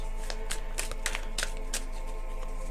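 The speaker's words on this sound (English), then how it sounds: "I'm actually gonna get some index cards" Index cards are handled and shuffled close by, giving a quick run of soft papery flicks and rustles at a low volume, with no talking.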